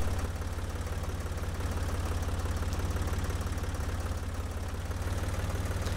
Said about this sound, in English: as soon as I lift that planter up, the tractor takes right off